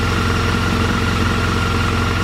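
A 2014 BMW R1200GS motorcycle idles just after starting, its engine giving a steady, evenly pulsing low throb, close and loud without any talk.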